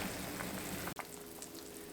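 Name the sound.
celery and potato soup simmering in a pot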